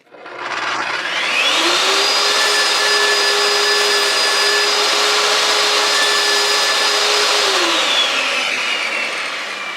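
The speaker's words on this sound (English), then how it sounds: "I just marked out my notch here, and then I freehanded on the table saw" Table saw cutting a notch in laminate flooring, the motor spinning up to a loud steady whine with the blade biting through the board, then winding down near the end.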